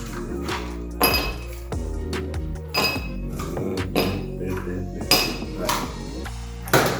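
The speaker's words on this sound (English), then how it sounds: "We'll start off with adding our ice cubes." Ice cubes tumble into a cocktail glass while a mojito or Cuba libre is being made, giving a series of sharp clinks and clunks close by, repeated in bursts every second or so.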